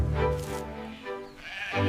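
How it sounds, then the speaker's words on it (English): Cartoon Texel sheep on a farm give several loud, close bleats in quick succession, each wavering call overlapping the next. "5 Texel sheep eating."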